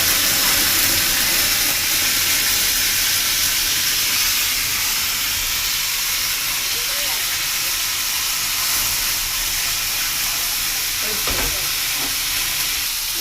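Broiler chicken pieces frying in a pan over a village stove give a steady, loud sizzle and hiss that fills the whole stretch, with a few faint clinks of stirring and no talk.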